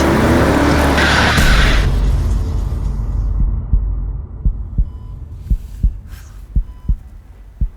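A car bears down on a boy in the street with a loud rushing roar and tire noise that fades out, followed by a slow, steady series of deep thumping heartbeats alone in near silence.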